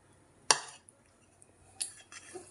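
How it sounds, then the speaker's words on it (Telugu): Ragi flour cake batter with sunflower oil being stirred in a bowl, one sharp utensil clink against the bowl followed by a few softer scrapes and taps, close and fairly quiet. "అన్నీ మిక్స్ చేద్దాం ఫ్రెండ్స్."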